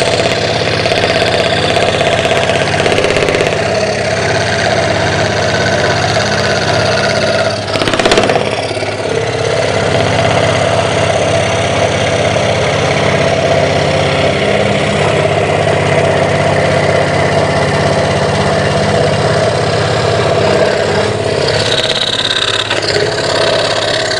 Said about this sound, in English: A blower here that blows the dust away, which is really nice because it helps me see the line.